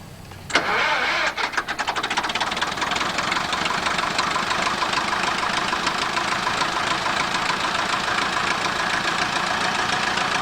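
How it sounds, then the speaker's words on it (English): A restored tractor engine that runs on both gas and diesel cranks and catches, then settles into a steady, loud, close idle with a regular knocking beat. "Same engine runs on gas and diesel both."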